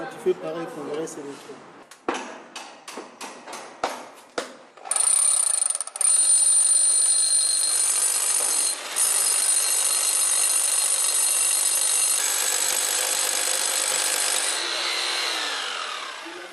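A few short knocks and scrapes, then a loud, steady high-pitched drill grinding continuously into concrete for over ten seconds, close by.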